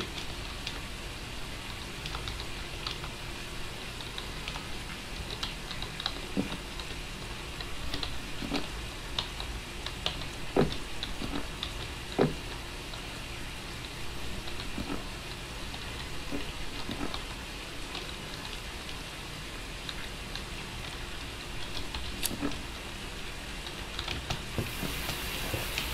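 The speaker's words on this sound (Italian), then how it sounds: "ma sta piovendo" Rain falling in Phasmophobia, a steady soft patter across the whole stretch with scattered louder drips and ticks, fairly faint and with no talk.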